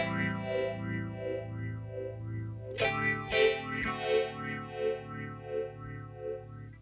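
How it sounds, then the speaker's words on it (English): Electro-Harmonix Stereo Polyphase analog phase shifter with a triangle-wave LFO sweeping over a sustained chord, then over new struck notes, giving a steady rising-and-falling whooshing swirl. "this is going to create this really spatial phase shifting sound"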